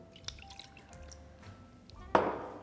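A small amount of water is poured onto apricot jam in a pot so that it thins. A short trickle and a splash are heard close up in a quiet kitchen, ending with one sharper wet burst.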